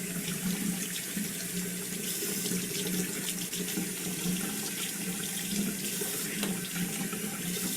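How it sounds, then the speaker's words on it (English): Steady stream of water from a sink faucet while someone rinses off during personal hygiene care, continuous splashing and running flow, close and fairly loud, no voices. "Go ahead and rinse off."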